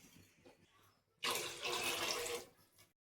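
Two glasses of water pour into a cooking pot while a mushroom curry and bagara rice meal is being prepared: a loud, splashing gush lasting about a second after a quiet start, then tapering off.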